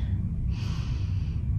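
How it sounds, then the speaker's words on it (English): A single audible breath drawn in through the nose during a full-body stretching routine, soft and close against a low background rumble. "So we're breathing in through the nose"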